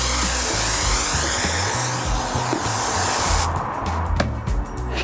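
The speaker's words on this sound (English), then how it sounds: "I took the filter out so that I could use it as a sprayer." Foamer with its filter removed, used as a sprayer while detailing a 2019 Mustang Bullitt; a loud, steady hiss of spraying runs throughout, with a short sharp click near the end and no talk.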